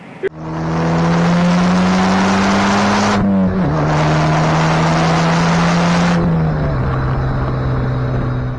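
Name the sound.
Cadillac turbo engine noise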